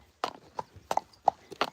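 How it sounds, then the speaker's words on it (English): Hooves of a Friesian horse clip-clop in a steady walking rhythm, about six distinct sharp strikes close by on a hard surface. "he's a Friesian horse"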